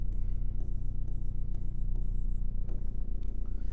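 Marker or chalk writing on a board during a class 10 maths geometry lesson, steady rhythmic scratching strokes close by with a constant low hum underneath, no speech.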